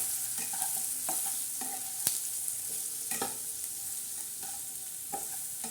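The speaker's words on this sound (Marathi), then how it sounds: "थोडं चवीनुसार मैत्रिणी त्याच्यात मीठ टाकत आहे आणि छान असे आपण हलवून घेणार आहोत" Dal frying in a pan as turmeric and salt are stirred in, a continuous bright sizzle with intermittent spoon scrapes and one sharp tap against the pan.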